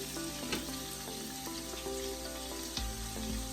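Chopped celery and onions sizzle in a jambalaya pot with a steady close frying hiss, broken by a few light clinks and stirring knocks, with no one talking.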